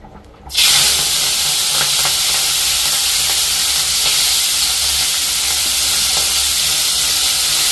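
Preserved prawn heads hit very hot oil and burst into a loud, dense sizzle that holds steady and close throughout.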